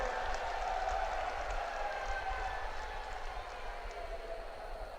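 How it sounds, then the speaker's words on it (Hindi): A large crowd at a political rally with Prime Minister Modi in Pushkar applauds in a steady, dense roar of clapping and cheering that lasts throughout, with no pauses. "एक बार जोरदार तालियों के साथ स्वागत और अभिनंदन"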